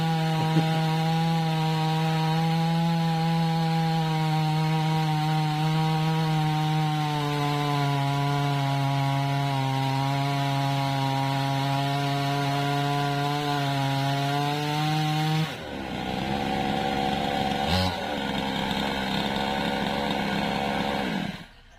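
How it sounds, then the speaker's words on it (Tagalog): A newly bought chainsaw engine runs steadily and loudly, then its pitch drops and roughens as the blade bites into wood near the end. "Kabibili ko lang ng chainsaw. At ngayon, susubukan ko siya ngayong umaga."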